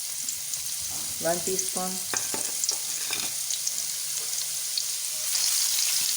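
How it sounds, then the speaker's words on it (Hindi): Garlic ginger paste frying in ghee for fish karahi gives a steady sizzle with crackle under a brief spoken remark. The frying grows slightly louder toward the end. "ये आधा कप मैंने घी ले लिया है। सबसे पहले इसके अंदर डालूँगी मैं लहसुन अदरक का पेस्ट"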